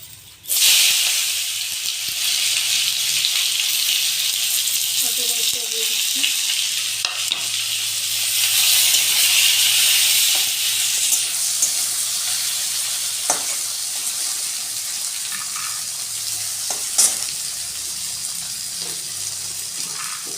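Tomatoes sizzle loudly and steadily in a pan over panch phoron spices for about twenty seconds, with occasional stirring scrapes and no voices.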